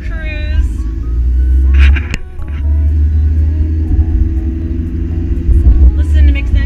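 Steady low engine rumble inside a Toyota Prius while driving, with a brief thump and some faint talking over the drone.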